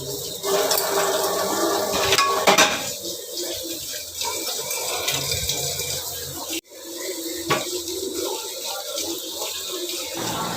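Running water splashes into a sink with clinks of dishes being rinsed, steady and close, with a couple of sharp knocks.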